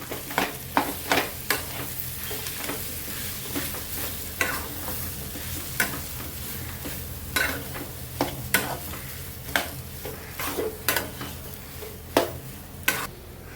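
Vegetables frying in a pan with salt being mixed in, a steady sizzle underneath repeated sharp scraping and tapping strokes of a spatula stirring at an uneven rhythm.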